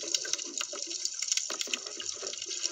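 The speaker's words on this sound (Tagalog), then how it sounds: "Dinig na lang natin yung galawan ng tubig" Water sloshes and churns continuously underwater on a sea dive at a fish trap, a close, bubbly rush with small gurgles and splashes throughout.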